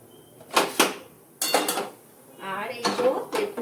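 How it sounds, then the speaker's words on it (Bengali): A pressure cooker is shifted aside on a home stovetop: several distinct metallic clanks and scrapes of a pot against the burner grate, close and fairly loud, in short bursts separated by brief pauses. "প্রেসার কুকারটা সরিয়ে নিচ্ছি।"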